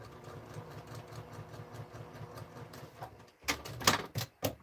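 Sewing machine stitching seams on a scrap quilt, running with a steady mechanical patter that turns louder and more clattery near the end, with no talking.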